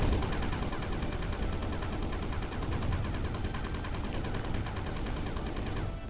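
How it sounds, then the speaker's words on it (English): Rapid continuous gunfire in the Sandustry video game, a dense, steady stream of shots that runs loud and unbroken throughout, with no voices. "You can use the gun as well."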